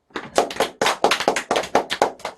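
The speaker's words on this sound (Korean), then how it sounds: "박수!" An audience claps in response to a shout, sharp overlapping claps in rapid bursts, loud and near, with no talk over them.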